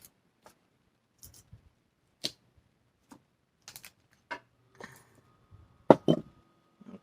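Wire-cutting pliers snip through wire while denim hoop earrings are being made, giving a sparse series of sharp, close clicks and snaps with quiet gaps between them, the loudest pair coming near the end.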